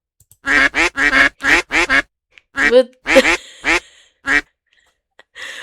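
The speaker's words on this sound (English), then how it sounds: "with a trail of ducks quacking behind her" Ducks in the indie otome video game Pre-Odyssey quack in a quick, close run of about five bright, nasal quacks, followed by a few more spaced-out quacks after a short pause.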